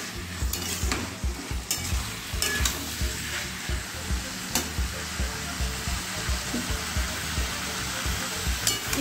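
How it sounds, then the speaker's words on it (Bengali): Yard-long beans, potato and shrimp are sautéed in a pan, with a steady sizzle of frying under repeated stirring and scraping strokes, close up and with no talking. "কিছুক্ষণ আমি ভালোভাবে কষিয়ে নেব এটা"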